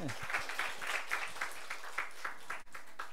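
Applause offered to God by a Korean church congregation during a Sunday sermon, soft rhythmic clapping from a crowd, fairly faint and distant, with a voice faintly present underneath.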